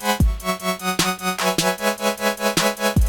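A single saw-wave synthesizer voice, as used for future bass supersaws, plays bright buzzy notes with sharp attacks roughly every half second, loud and alone with no talking.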